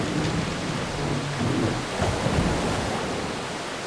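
A broad, steady roar of rushing water pours through an opened water gate by a waterfall in the Dark Cloud video game, constant and full throughout with no voices.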